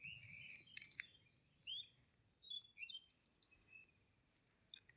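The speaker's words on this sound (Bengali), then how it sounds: "চারিদিকে পাখিতে ডাকতেছে।" Birds call all around a garden with okra plants, thin chirps and trills coming in short bursts from several directions, faint and fairly distant, over a soft background of insects.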